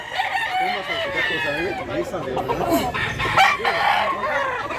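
Gamefowl roosters for sale in Mantalungon, Cebu, crow and cluck in overlapping calls, several birds nearby, forming a steady, lively din that lasts throughout.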